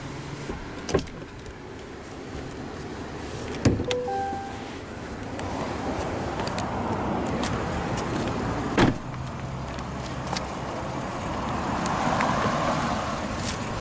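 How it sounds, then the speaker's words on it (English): Power windows on a 2024 Chevrolet Silverado 1500 LT Z71 Double Cab with the 5.3L, motors whirring as the glass lowers, steady and close inside the cab, with occasional thumps and clicks and faint outdoor ambience behind. "All 4 windows are automatic down,"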